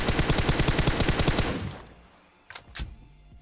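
Rapid automatic gunfire from PUBG Mobile rattles in a dense, steady burst for about a second and a half, then fades, followed by two sharp single shots spaced apart; no voices.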